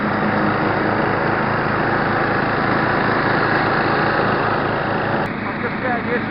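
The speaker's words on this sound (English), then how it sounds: "which is a classic ride-on lawnmower" A 1970s Simplicity Regent ride-on lawnmower, fitted with a non-original engine, runs with a steady, loud, close-up drone that barely changes throughout.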